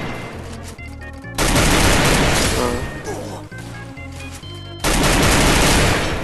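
Assault rifle fire in Free Fire, a mobile shooter game: dense, loud sustained bursts of automatic shots in two long volleys, with someone talking over the gameplay.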